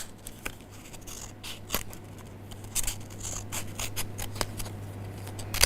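Scissors snip through a folded square of paper to cut it into triangles, with a run of short crisp cuts and rustles close up, irregularly spaced, and no talk.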